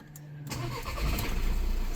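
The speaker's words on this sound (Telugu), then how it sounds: "సింగిల్ సెల్ఫ్ ఇంజన్ అనేది స్టార్ట్ అయిపోయింది." A 2018 Volkswagen Vento Highline Plus automatic diesel car cranks briefly and its engine catches, settling into a steady, close rumbling idle that holds at an even loudness to the end.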